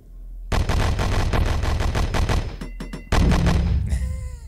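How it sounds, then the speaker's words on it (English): Gunshots in the video game Horus Heresy: Betrayal at Calth, fired at armored troops: a burst of loud, rapid shots, then a few bright metallic pings as rounds glance off armor, followed by another heavy blast and a ringing tail. "Love how the last shots go tink,"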